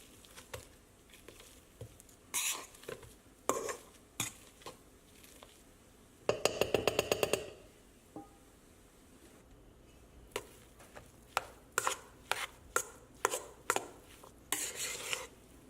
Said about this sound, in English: Add and mix your ingredients well with the mashed potatoes.